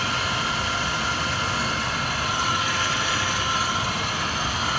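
A Kao Ming KMR 700 DS radial drill spindle runs at about 154 RPM, giving a steady, even mechanical whir and hum with no breaks.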